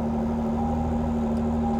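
A Ford GT six-cylinder engine runs at a steady, even pitch, giving a low, continuous hum close to the listener with no other sound over it.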